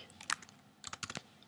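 Typing on a computer keyboard during WordPress editing: two quick bursts of soft, close key clicks, faint and without talk.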